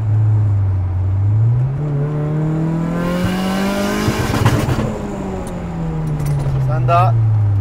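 Turbocharged six-cylinder engine in a Nissan S13 revving hard and bouncing off the rev limiter in repeated stuttering cuts, loud and close, with people talking over it.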